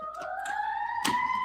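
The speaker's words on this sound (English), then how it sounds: "please excuse the loud ass ambulance because this shit happens every day" A loud ambulance siren wails steadily nearby, its tone rising slowly, with a brief clattering burst partway through.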